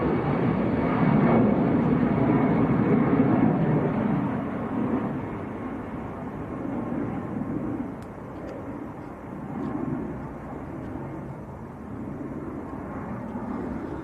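An EasyJet airliner departing Manchester Airport for Hamburg roars loudly and steadily at first, then eases into a broad, fading rumble that lingers to the end.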